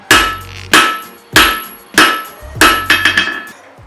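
Heavy forging-hammer blows strike a steel bar on an anvil to spread it wider, five loud ringing impacts at a steady pace followed by a quicker run of lighter taps.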